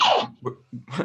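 A single sharp sneeze bursts out at the start, loud and close, followed by a short breathy sound and a brief murmur of speech.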